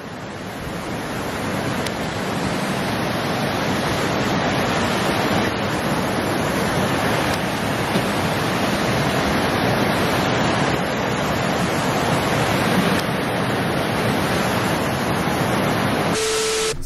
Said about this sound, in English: Now that sure is water.